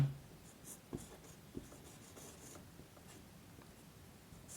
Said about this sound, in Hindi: यहाँ लिखते हैं यहीं y का